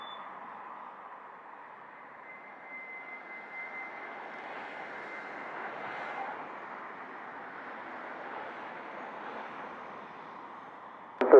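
A Copa airliner lands on runway 25 at Montego Bay, Jamaica, heard as a steady, distant engine roar that holds level and swells slightly midway before a brief sharp noise at the end.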